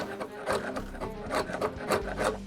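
Steady rhythmic scraping as a chisel is pushed across a wooden surface to remove heavy glue, close and raspy, repeating stroke after stroke.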